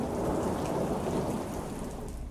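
Heavy morning rain pouring down in Delhi during a sudden change in weather, a dense, steady roar of downpour with low rumbling underneath, constant and close throughout.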